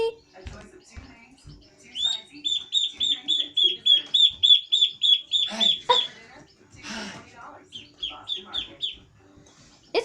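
A noisy pet duck kept with hens gives a rapid burst of repeated, loud, evenly spaced quacks, then scattered shorter calls, with other birds clucking nearby and a brief voice in the background.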